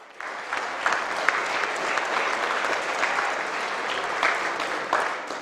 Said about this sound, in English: Can we please have a round of applause for the Pakistan team?